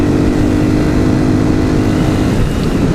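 A Honda Titan 150 motorcycle fitted with a Gemoto 4mm exhaust roars loudly and close at steady throttle while riding on a night delivery run, its rough, throbbing exhaust note continuous and unaccompanied by talk.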